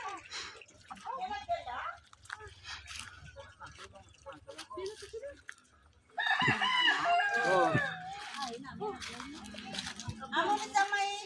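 Chickens cluck and a rooster crows nearby, mixed with people talking and a faint dripping of water in the background.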